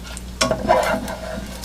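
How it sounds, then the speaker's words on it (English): Seasoned mushrooms sauteing in hot bacon grease, a close sizzle with a brief burst of stirring and scraping in the pan, no voices. "Once I season them and saute them in this bacon grease."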